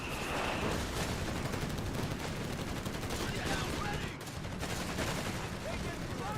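Machine gun fire in a Company of Heroes 3 tournament match, dense continuous rattling bursts with distant explosions mixed in, loud and sustained, while a commentator talks over it.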